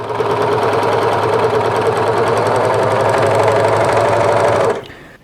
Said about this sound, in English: I'm going to go ahead and just serge these edges,